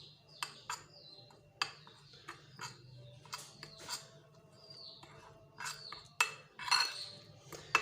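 A spoon clinks and scrapes against a bowl while orange peel powder and milk are stirred into a paste, giving a series of irregular, close, light metallic taps over faint background hum.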